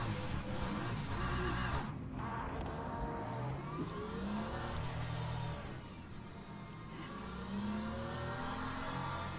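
Several race car engines drone and rev together during a formation lap in a racing video game, a dense layered engine roar with rising and falling pitch sweeps, steady and close with no talk.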